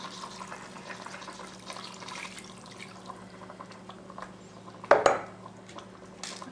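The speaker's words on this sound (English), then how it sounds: "I'm going to go ahead and add 3 cups of beef broth" Beef broth pours into a pot for pot roast, a faint trickling and dripping of liquid with light clinks of cookware and one sharp metallic clatter near the end, nobody talking.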